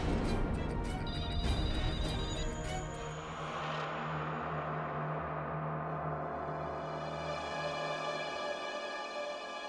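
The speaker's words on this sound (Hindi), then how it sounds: "ये तो उस आत्मा का ही फोन लगता है।" Telephone rings with a repeated electronic ringtone, tonal and sustained, under a dramatic music bed that swells and then fades to lingering held tones.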